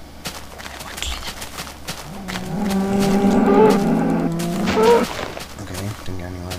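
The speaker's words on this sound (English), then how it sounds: "Oh, cows!" Cows in Minecraft give a long drawn-out moo that swells and fades over a few seconds. Faint clicks and a voice sit around it.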